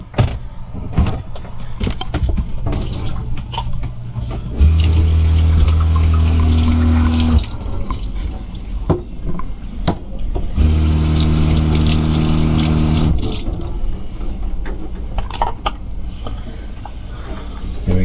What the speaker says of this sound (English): And then I just go dump this out and rinse it out in the sink.